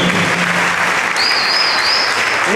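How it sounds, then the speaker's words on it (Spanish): A church congregation applauds steadily, a broad wash of clapping that holds at even loudness throughout, with a faint sustained tone rising in the background partway through. "Denle un aplauso, por favor, a Dios y a la mujer"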